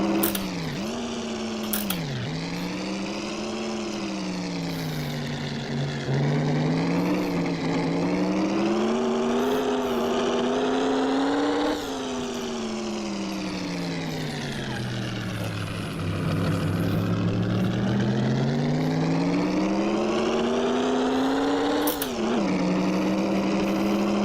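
Racing car engine in Assetto Corsa VR, with gearbox damage, droning loudly and steadily throughout, its pitch rising and falling through gear changes with a few sharp shifts, no talking over it.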